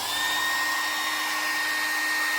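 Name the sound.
hair dryer running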